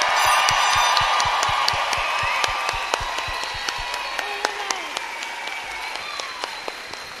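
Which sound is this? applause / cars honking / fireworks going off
applause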